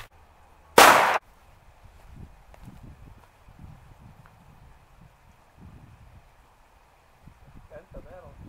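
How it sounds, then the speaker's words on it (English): A single loud, sharp shot from a 1911 pistol firing a .45 hollow point at improvised armor outdoors. After it comes quiet wind-blown ambience with faint movement and low voices. "Up next, we're going to be using a hollow point 45 from a 1911."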